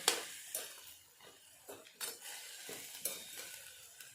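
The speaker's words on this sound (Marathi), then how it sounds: "आता आपण हे तांदूळ इथे मिक्स करून घ्यायचे" Rice being stirred into a pot for matar pulao, with soft scraping and a few light spoon clinks against the metal at a steady pace, close and fairly quiet with no voices.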